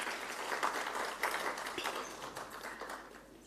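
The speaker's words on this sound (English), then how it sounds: "Another round of applause for them." Audience applause at a BRICS TVET institution president forum seminar: dense, steady clapping from a crowd that holds for several seconds and tapers slightly toward the end.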